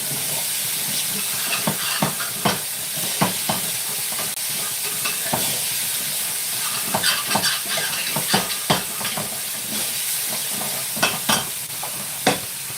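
Punjabi kadhi curry stirred in a pan, a constant sizzling hiss with irregular scraping and knocking strokes of the spoon against the metal throughout, close and clear with no speech.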